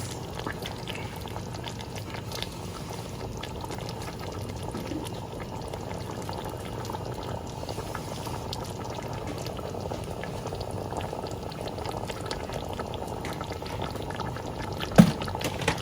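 Water is poured into a pasta sauce container to rinse it, a steady soft running and bubbling liquid sound lasting throughout at low, even volume, with a small knock near the end.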